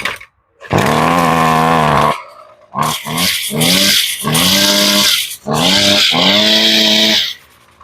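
A Husqvarna string trimmer's small two-stroke engine, on full choke after sitting unused and needing a tune-up, sputters and roars close by, loud and rough, revving in several surges separated by brief drops and pauses.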